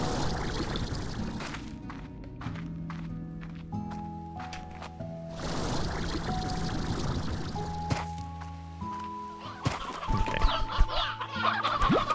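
Rainbow hens in Slime Rancher 2 cluck repeatedly in short bursts, joined by soft pouring and splashing sounds and chiming game tones, with no speech.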